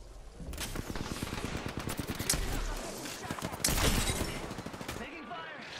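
Sustained rapid gunfire from the battle royale game Apex Legends, rattling automatic bursts with overlapping shots and impacts that keep up for several seconds before easing off near the end.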